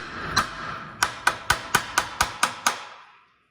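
A small hammer strikes metal on a 2007 Kenworth T600 truck nine times, sharp ringing taps close by, one early hit and then a quick steady series before fading to silence.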